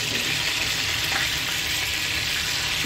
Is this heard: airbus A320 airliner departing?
no